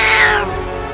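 A cat meows in a LEGO Movie 2 video game, a single loud, drawn-out yowl that falls in pitch and fades after about half a second.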